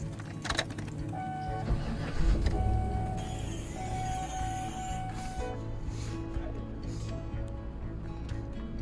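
A 2008 Chevrolet Tahoe running after an air-conditioner recharge gives a steady, close mechanical hum and whir, with brief clicks and a rise in loudness partway through.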